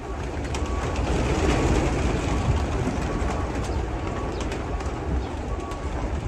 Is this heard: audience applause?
no